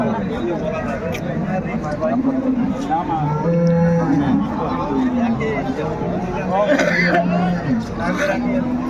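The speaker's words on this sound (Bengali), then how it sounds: "গাভী বাছুর আমরা দেখছিলাম এখানে" Dairy cows and calves lowing at a busy rural cattle market in Dinajpur, several drawn-out moos rising over a steady babble of people talking and calling nearby.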